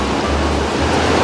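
Water gushes out of a large sandstone cave in the marble cave country of Vancouver Island, a loud, steady broadband rush like surf, close and unbroken with no voices.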